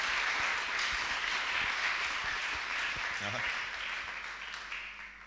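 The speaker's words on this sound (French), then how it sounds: "On acclame très fort le roi des gloires." Audience applause acclaiming the king of glory at a French-language church service, a sustained wash of clapping and cheering that slowly fades, with voices mixed in.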